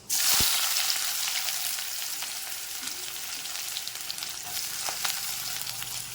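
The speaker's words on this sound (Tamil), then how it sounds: "இப்போ நாம் கட் பண்ணி வச்சுருக்கிற வெங்காயத்தை போட்டுக்கலாம்." Chopped onions fry in hot oil with cumin and fenugreek seeds, a loud bright sizzle bursting at the start and settling into a steady crackling hiss with a few light stirring taps, close up, no voices.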